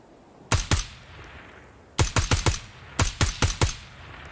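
Rifle fire in the tactical shooter game Ground Branch: a quick double shot, then a pause, then rapid strings of loud, sharp single shots in quick succession, close and clear with no voices.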